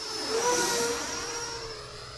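An E-Flite Viper 90mm RC jet plane flies past with a whining ducted-fan hiss that swells and then slowly recedes, a high tone sliding downward as it moves away.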